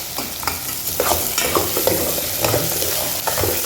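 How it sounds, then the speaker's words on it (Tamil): Cabbage and mixed vegetables with potato are stir-fried in oil for a Tamil poriyal, a loud continuous sizzle broken by the scrape and clatter of stirring. "எண்ணெயிலே போட்டு நல்லா கொஞ்சம் வதக்கணும்."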